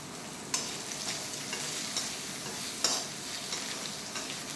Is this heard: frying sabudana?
yes